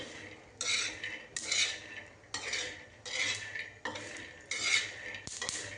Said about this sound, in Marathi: आधी शेंगदाणे भाजून घेते मस्त खरपूस मस्त भाजून घ्यायची